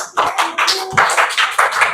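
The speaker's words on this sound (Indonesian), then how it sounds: "Beri tepuk tangan." A class applauds after a group presentation, with quick, uneven rapid claps from several pairs of hands close by, loud and crisp, with no talking.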